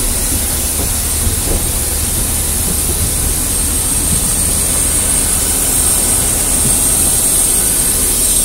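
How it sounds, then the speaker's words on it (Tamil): Steady, loud jet engine roar from an airplane, a continuous broadband rumble with a high whine on top, heard up close while boarding and unbroken throughout, with no talking. "ஃப்ரெண்ட்ஸ், இந்த ஃப்ளைட்டில் தான் போக போகிறோம்."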